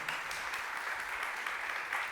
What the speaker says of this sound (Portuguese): Eu daria até uma salva de palmas agora.